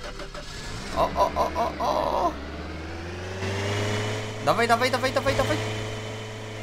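Car engine in the Roblox game Lumber Tycoon 2, a steady low engine hum running throughout with a rise in pitch midway like revving, while excited voices shout over it.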